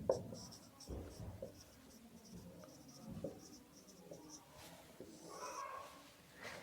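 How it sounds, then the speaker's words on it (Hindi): Numbers are written out by hand during a lesson on squaring repeated numbers: soft, scratchy strokes come in short irregular bursts, quiet and close, with faint speech underneath. "लिख देते हैं।"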